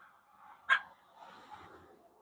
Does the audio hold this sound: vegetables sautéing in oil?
no